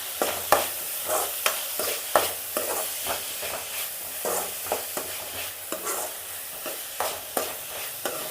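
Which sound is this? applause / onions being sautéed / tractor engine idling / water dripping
onions being sautéed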